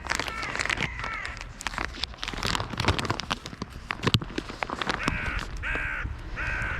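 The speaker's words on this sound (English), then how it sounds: "We have some of the gulls here too as well" Gulls calling in harsh, repeated squawks, some loud and near, over a busy outdoor background of crackle and rustle, with the clearest bursts of calls near the end.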